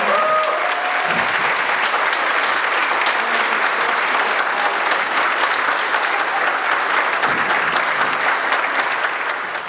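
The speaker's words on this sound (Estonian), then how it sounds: "Üks aplaus." An audience applauds at a dance groups' spring concert, a continuous, even wash of clapping from many hands that stays full and close throughout.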